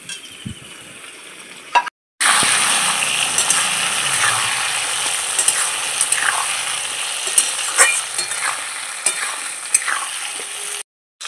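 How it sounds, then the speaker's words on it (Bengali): Chopped tomatoes drop onto potatoes already fried red in a pan, setting off a loud, bright sizzle that holds steady with occasional clinks and scrapes of stirring, no voices, between brief silent gaps. "আলুগুলো লাল করে ভাজা হয়ে গেছে, কেটে রাখা টমেটোগুলো দিয়ে দিচ্ছি"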